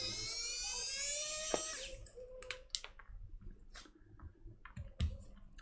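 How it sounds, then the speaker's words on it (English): A small YZH electric screwdriver strains against screws during a JBL Charge 3 speaker repair, giving a high whining drive for about two seconds, then broken clicks and short bursts, close and fairly quiet. "the YZH electric screwdriver doesn't sound happy doing this"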